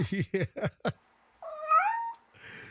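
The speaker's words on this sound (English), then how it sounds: "let's play the fighting cat." A fighting-cat soundboard effect starts with four quick low yowls in a rapid burst, then after a short pause a single rising, wavering cat cry, ending in a hiss-like noisy burst.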